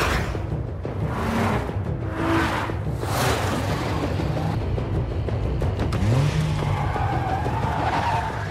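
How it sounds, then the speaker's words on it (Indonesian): Tires skid and squeal repeatedly during a film car chase, as gangsters pursue a fleeing car; loud engine roar and screeching sweeps rise and fall throughout. "Aksi kejar-kejaran mobil pun terjadi."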